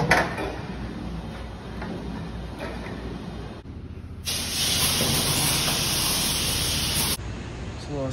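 Steam spray cleaning a dairy tanker, a steady broad hiss that jumps much louder midway after a short drop, with faint clinks and ticking under it.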